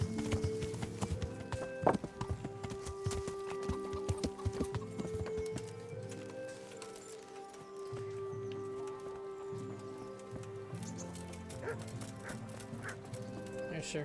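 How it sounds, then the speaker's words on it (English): Horse hooves clip-clopping in the medieval game Kingdom Come: Deliverance, a steady rhythm of hoofbeats under in-game ambience, with occasional dog barks and a sustained musical drone. "There's Sir Capon's horse."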